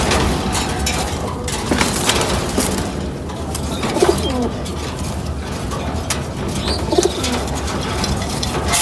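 A restless female racing pigeon coos softly while it is handled up close, with rustling and a few brief wing movements throughout.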